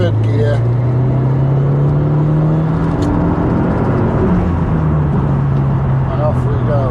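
A Toyota Yaris engine hums while driving, shifting into third gear, a steady close cabin drone with rising and falling pitch as revs change, a brief gear-change shift partway through.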